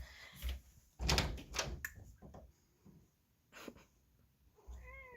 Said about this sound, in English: My cat wants in.